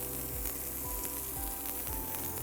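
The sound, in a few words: garlic and red chilli tempering sizzling in oil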